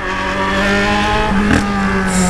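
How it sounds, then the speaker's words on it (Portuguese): A Yamaha XJ6 motorcycle with a 3-inch exhaust pipe revs loudly and drones through its exhaust, pitch shifting as the throttle changes, close and continuous. "Olha o jeito que ele berra, mano."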